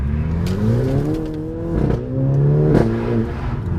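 A 2-litre turbo four-wheel-drive car with a 7-speed gearbox accelerates hard, its engine rising in pitch and falling back sharply at each quick gear change, heard loud and close from inside the cabin.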